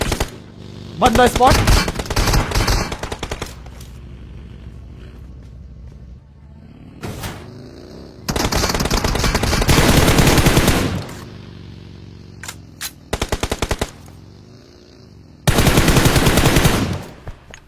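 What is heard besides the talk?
M416 rifle gunfire in video game PUBG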